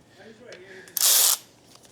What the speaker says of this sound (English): There's bolts in the bottom that we need to take out.